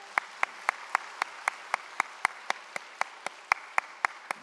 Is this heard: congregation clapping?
yes